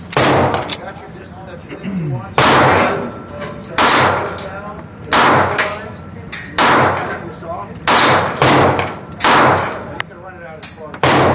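A Sig Sauer P238 Scorpion pistol firing a string of loud, sharp shots, close up and spaced unevenly about a second apart. Each shot is followed by a brief ringing decay.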